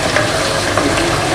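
Chicken ginger gravy with tomatoes bubbling and sizzling down in a pan, a steady close crackle with faint stirring sounds and no talk.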